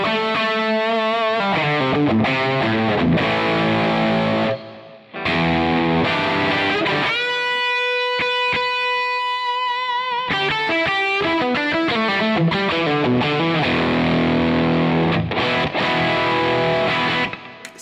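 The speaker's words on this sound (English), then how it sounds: "And if I bring an Earthquaker Devices Plumes in, sounds like this." A driven electric guitar plays through an Earthquaker Devices Plumes overdrive pedal into a Marshall Silver Jubilee Studio amp. Loud riffing chords break for a long sustained lead note with vibrato, then chugging chords return.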